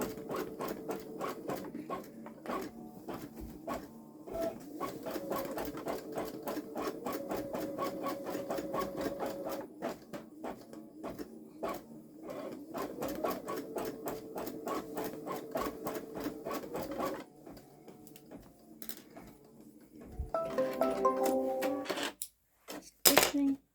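A Babylock Solaris Vision embroidery machine stitches out long stitches on a small quilt, a steady rapid mechanical chatter with brief pauses and a louder burst near the end, no talk over it.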